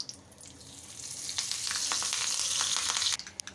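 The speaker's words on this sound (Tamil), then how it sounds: "எண்ணெய் நல்ல ஹீட் ஆனதும் ஃபஸ்ட்டு நம்ம கடுகு சேர்த்துக்கலாம் கொஞ்சமாக பெருங்காயம் ஆட் பண்ணிக்கலாம்" Mustard seeds, asafoetida, a dried red chilli and curry leaves hit hot oil for tempering a Kerala-style vegetable dish, producing a loud, continuous sizzle with sharp crackles and pops that rises and then fades.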